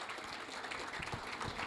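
Audience applause at an opening ceremony, a steady wash of many hands clapping from a crowd, fairly faint and distant, continuous throughout with no voices over it.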